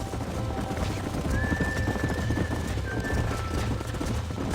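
Wild horses in Red Dead Redemption whinny with a high, wavering neigh, backed by a steady rumble of hooves galloping over open ground, all loud and continuous.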